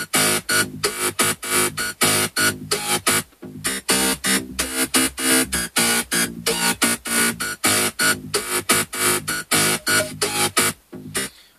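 Bass line from a remix in a studio, pumping in a steady, evenly spaced rhythm of loud repeated notes that run throughout with no voices.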